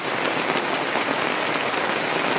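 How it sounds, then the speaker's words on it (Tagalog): Heavy rain pours down steadily and loudly at a beach campsite and resort in San Narciso, Zambales, a dense unbroken hiss of drops drumming on surfaces, with no talking. "Grabe lakas ng ulan."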